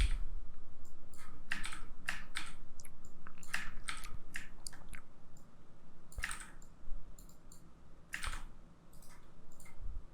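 Computer keyboard keys are pressed in uneven clusters of sharp clicks close by, over a steady background hiss, with no talking.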